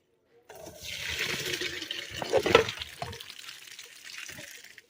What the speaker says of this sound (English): Okay, we're going to strain this pasta.